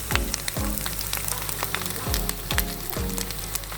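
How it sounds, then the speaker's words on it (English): Finnebrogue vegan plant-based bacon sizzles and crackles steadily in a frying pan, close and continuous, with a few sharp pops and clinks of utensils. "So it's sizzling."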